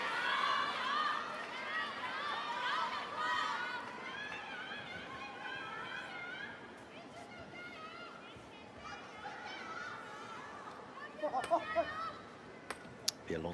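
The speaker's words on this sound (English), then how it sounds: "Be a long wait for this crowd to settle." Arena crowd at an Asian Cup table tennis quarter-final, a loud continuous roar of chatter and cheering that slowly fades, with a few sharp ball or clap knocks near the end.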